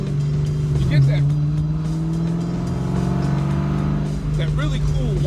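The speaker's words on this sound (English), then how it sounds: "you get a really cool supercharger whine" A GM LSA supercharged V8 swapped into a car whines with a steady, high-pitched drone over a loud engine rumble, running close and continuous, while a voice speaks over the top.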